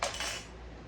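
A utensil clinks and scrapes briefly against a pot while rice is stirred with olive oil, a quiet close-up sound that fades quickly.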